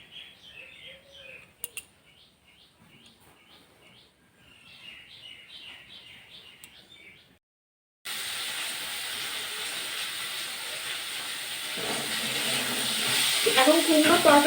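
Small birds chirp softly at first, then a pumpkin curry begins sizzling in a pan, a loud, steady hiss that grows stronger toward the end.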